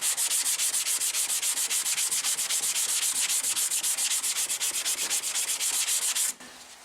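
Long sanding block rasping back and forth over car body filler, loud and close, strokes in a fast even rhythm for about six seconds before stopping abruptly.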